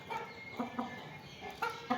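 Hens cluck in short, separate bursts close by while being fed flour, with a few louder calls standing out against a quiet farmyard background.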